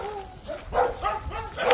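Stray dogs kept and fed at a farmhouse give a few short barks and whimpering yelps close by, in uneven bursts.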